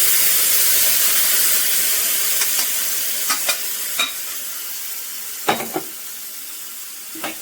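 Cooked beef liver goes into a hot pan of pepper masala and fries with a steady hiss, while a few sharp scrapes and clicks from stirring break through at irregular moments.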